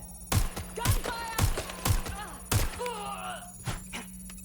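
Gunfire in the video game Watch Dogs Legion: half a dozen sharp, heavy shots crack out at uneven intervals, with shouted voices and clattering action sounds between them.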